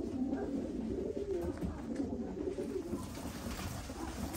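Pigeons kept as ornamental birds coo softly in low, continuous, overlapping calls close by, with no talking.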